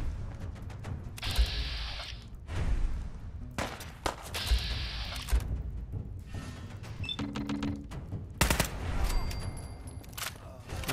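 Gunfire in the video game Fallout 4: repeated sharp bursts and volleys of shots with short gaps between them, mixed with game effects and a thin mechanical clatter.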